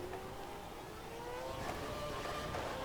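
Race car engine in the F1 2012 video game, a faint continuous whine with shifting pitch as the car drives through corners, quiet and steady with no talking.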